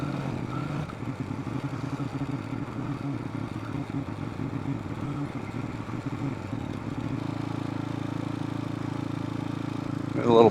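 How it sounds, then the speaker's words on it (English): A Honda Trail 125 motorcycle engine runs at a steady idle, a low, even drone with light mechanical clatter throughout, rising briefly at the very end. "I like hearing the engine."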